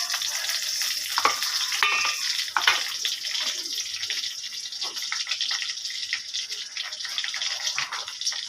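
Dried red chillies sizzle in hot oil in a wok, a steady close crackling hiss with occasional sharper pops and faint stirring, no talking.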